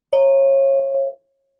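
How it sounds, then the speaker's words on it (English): A single meditation bell strikes once, its clear resonant tone sustaining for about a second before cutting off into silence. "Stay with the sound of the bell from beginning, middle, and end."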